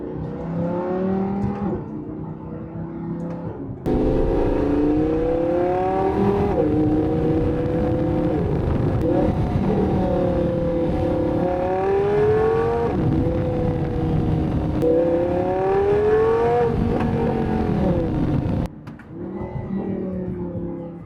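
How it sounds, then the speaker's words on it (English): An Audi R8 V10+ fitted with an aftermarket Capristo exhaust revs hard and loud for about twenty seconds, the engine note rising and falling in repeated sweeping pulls with no talking over it. "You have the Capristo exhaust on this car, so it's a little bit of cheating in the sense of this has an aftermarket exhaust."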